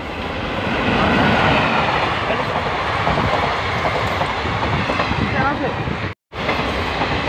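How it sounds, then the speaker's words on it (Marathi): A Virar–Surat shuttle train pulls in with a loud, steady rumble of wheels and carriages close by, a broad roar lasting several seconds before a brief cut, with voices mixed in. "सुरत शटर आलेली आहे"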